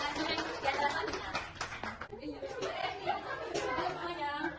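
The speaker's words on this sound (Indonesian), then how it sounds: "Beri tepuk tangannya untuk Mbak Ita membacakan dongeng di acara selanjutnya." An audience claps for a storyteller, a short burst of scattered hand claps mixed with chatter, children's voices and light laughter from a crowd.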